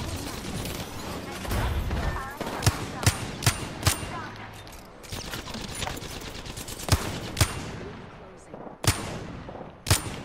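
Wingman pistol shots in a video game ring out as sharp, separate cracks at uneven intervals amid a busy firefight, while a player talks over the action.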